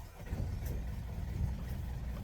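A sailboat's engine rumbles steadily close by just after being started, a continuous low idling drone with no speech over it.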